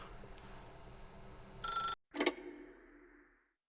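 A telephone rings in The Stanley Parable video game, with a short burst of ringing that stops briefly, then a second ring that fades away into silence, heard alone without talk.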